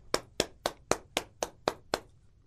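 Eight sharp, evenly spaced claps from students in a primary science class, a single steady sequence of crisp, close hand-claps with no talking.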